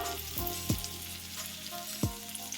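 Steak sizzles in a pan with garlic butter for a Prego steak roll, a steady close frying hiss with a couple of sharp scraping stirs.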